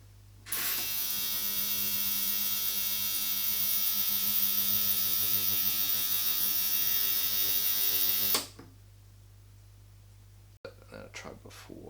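A cheap eBay ultrasonic cleaner hums and buzzes steadily for several seconds at close range, then cuts off abruptly, followed by a click and faint handling noises.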